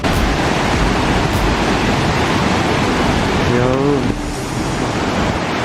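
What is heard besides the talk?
waterfall (Mother Falls)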